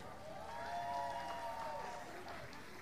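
Audience applause and cheering at a high school multicultural performance show, a steady wash of clapping with sustained voices rising over it, moderately loud throughout.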